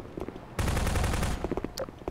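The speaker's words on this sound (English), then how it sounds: "Oh, I hear a sniper." Sniper rifle fire in a Garry's Mod Half-Life 2 roleplay session, a dense burst of loud gunfire that holds for about a second before dying away into scattered quieter shots and clatter.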